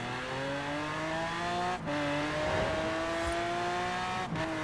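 A fast car in Forza Horizon 4 accelerating hard, the engine note climbing steadily through the gears with brief dips at two gear shifts, loud and close, steady and continuous throughout.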